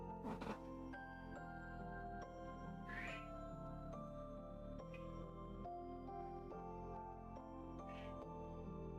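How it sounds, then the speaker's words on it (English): A cat gives a couple of short meows over a dense bed of sustained tonal music, the calls brief and moderately clear. "Your cat is unhappy. Yeah, he's extremely unhappy. He's needy. He had stopped meowing so much"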